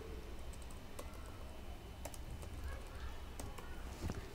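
Soft keyboard typing while code is written for a PHP and MySQL e-commerce admin page, a few faint scattered clicks under a steady hiss of background noise.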